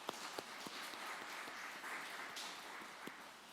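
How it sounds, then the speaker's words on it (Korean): A congregation at a Korean church's early-morning service claps together in soft, dense applause, with scattered sharper claps standing out over the continuous patter; the sound is quiet and somewhat distant. "축복의 박수 하겠습니다"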